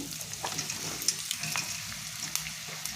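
Cut bitter gourd pieces drop into hot oil and fry, a continuous close sizzle dotted with sharp crackles and pops, with no talking.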